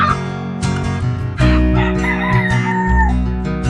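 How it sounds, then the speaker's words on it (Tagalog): Yellow Legged Hatch pullets, full sisters, crow and cluck loudly at close range in a short burst of harsh, overlapping fowl calls. "Sir Stewart's, Yellow Legged Hatch. Full sisters"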